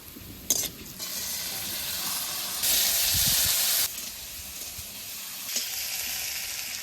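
Chopped tomatoes added to fried onions in a pan of spiced oil, a continuous close sizzle that swells into a loud hissing burst midway before easing back to a steady fry with occasional stirring clicks.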